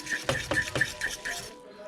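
A utensil scrapes and taps rhythmically against a pot while Mie Sedaap Korean spicy chicken instant noodles are stirred, about six quick metallic strokes, close and moderately quiet.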